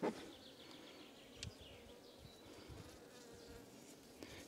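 Honey bees buzz at their hive on a cool April day: a faint, steady, droning hum that continues without a break, with no voices.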